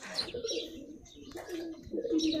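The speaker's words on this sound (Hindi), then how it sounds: "कबूतर है" Pigeons living at a Hindu temple cooing nearby, low throaty warbling calls repeating over a faint background murmur.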